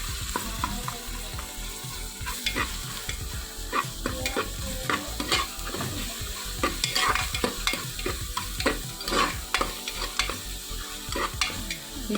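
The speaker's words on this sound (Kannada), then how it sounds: "ಶುಂಠಿ ಬೆಳ್ಳುಳ್ಳಿ ಪೇಸ್ಟ್ನ ಹಾಕಬೇಕು ಹಾಕಿದ್ಮೇಲೆ ಚೆನ್ನಾಗಿ ತಿರುಗಿಸ್ಬೇಕು" Ginger garlic paste sizzles in a pan for beetroot biryani while a spoon stirs it steadily, scraping and tapping in rapid, continuous strokes over the constant frying hiss.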